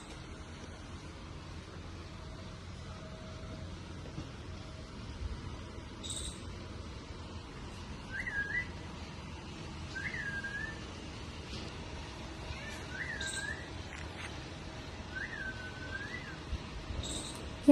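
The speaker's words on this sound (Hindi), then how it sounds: "मैं इसे ऐसे सीटी बजा के बुला रही थी" A person gives several short, faint whistles to call someone, spaced a couple of seconds apart over a quiet indoor background with occasional soft clicks.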